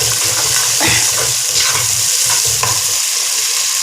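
Tomatoes sizzle in a pan for stingray fish curry, stirred with repeated scraping strokes over a steady frying hiss, close and fairly loud.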